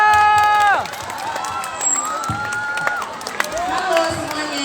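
Students at a school student-council candidate debate clap and cheer, a loud crowd roar with scattered whoops and claps, while tonal feedback and shouting voices rise over it.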